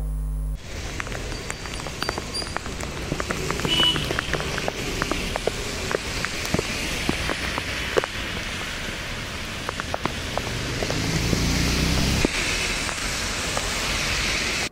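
Heavy rain pours steadily with dense pattering on surfaces, swelling louder near the end, during flooding from days of downpour along the Godavari at Bhadrachalam.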